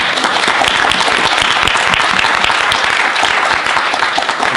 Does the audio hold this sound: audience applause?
yes